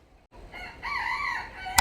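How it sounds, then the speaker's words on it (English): A rooster crows nearby, one loud rising and falling call after a short pause, in a backyard workshop with chickens around. "Excuse those chickens, please."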